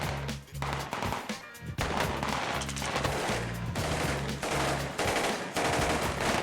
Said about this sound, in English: Over 20 men will be firing automatic weapons of all gauges and sizes. Although they will only be firing blanks